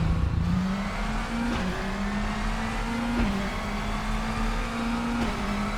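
A steady, synthetic-sounding racing car engine from RaceRoom Racing Experience, heard as internal car audio, drones at a constant pitch with slight wobbles, continuous and fairly loud.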